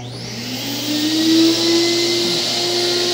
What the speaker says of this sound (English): We're using a HVLP sprayer.